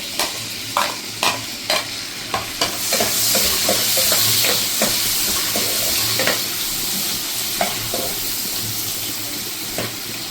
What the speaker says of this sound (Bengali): এবার আমি এখানে ক্যাপসিকামগুলো ফ্রাই করে নেব।